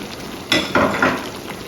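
Powdered shrimps going into hot shito chilli oil and being stirred, making a close sizzling fry with a few soft stirring scrapes, steady and without voices.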